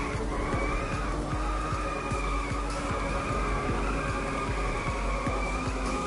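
A car drifting in the arcade racing game Inertial Drift, tyres skidding and squealing continuously over a steady engine drone, with a repeating rhythmic pulse underneath, loud and close.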